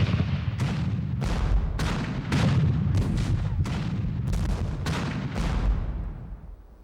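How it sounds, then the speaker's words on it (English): Siege artillery cannons fire in a rapid series of about a dozen heavy booms, each followed by a short rumble, loud and close, with no talk over them. "Here, the Americans massed their greatest concentration of artillery, now within point-blank range of the British defenses."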